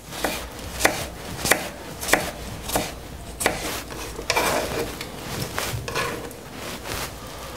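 A knife chops vegetables for a salad on a cutting board: about a dozen crisp, loud knocks in a fairly even rhythm, close by, with no talking.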